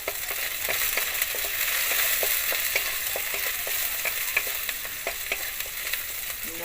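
Chopped garlic sizzles and crackles steadily in hot oil for a tilapia curry, with scattered sharp pops and an occasional stir scraping through, close and continuous with no talk.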